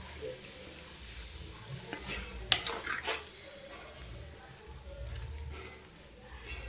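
Chicken kothu with stock being stirred in a pan, a steady bubbling sizzle broken by scraping and clinking of a metal spatula against the pan, loudest in a clattering burst around the middle.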